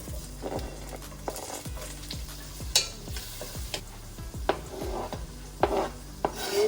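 Leeks and garlic sizzle steadily in hot palm oil, with the repeated scrape and clatter of stirring in the pan close by and no talk.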